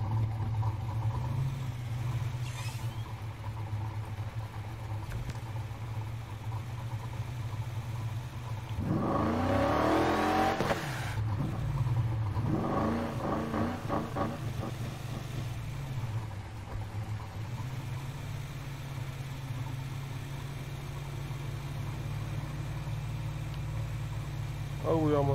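A 1965 Mustang GT restored from a rusty state in Need for Speed Heat hums along with a steady low engine drone, swelling briefly into a loud rev around the middle before settling back to cruising, with talk over it.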